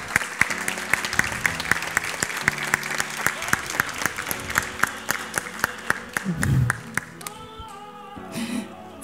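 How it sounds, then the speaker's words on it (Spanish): Audience applause at a kindergarten graduation ceremony as a child's name is called, steady clapping from a crowd throughout with a thud near the end, fading as it tails off. "Aplauso grande para Clara."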